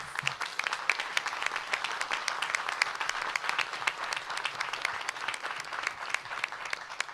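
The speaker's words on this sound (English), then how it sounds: "let's give them an early round of applause" Sustained audience applause at a DC budget presentation with Mayor Bowser, a dense steady patter of many hands clapping throughout, moderately distant and even in loudness.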